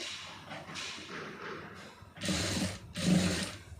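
A sewing machine stitches a pencil fit skirt, first with quieter fabric handling, then two short, loud bursts of rapid mechanical whirring, each lasting under a second.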